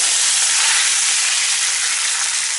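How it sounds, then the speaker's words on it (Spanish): Pork tenderloin being deglazed with port wine in a hot pan, giving a loud, steady, bright sizzle and hiss that holds evenly throughout with no voices. "Cuando está sellado de ambos lados, lo vamos a desglasar con oporto."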